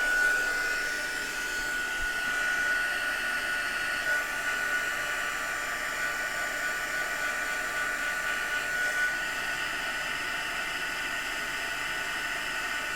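A heat tool blows steadily while warming a card being crafted, giving a constant hissing whoosh that holds at an even level throughout, close and alone.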